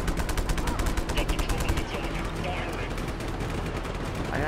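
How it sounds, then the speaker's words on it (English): Rapid bursts of automatic gunfire in Just Cause 3, aimed at a robot enemy at a base, loud and dense for the first two seconds, then fading into steady background game noise with a voice talking over it. "Maybe shoot the robot man a couple times."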